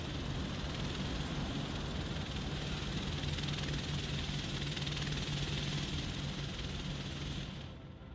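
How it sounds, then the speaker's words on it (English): Helicopters arriving in the military strategy video game Broken Arrow: a steady, loud rotor and engine drone holds throughout, fading slightly at the very end. "And the choppers have arrived."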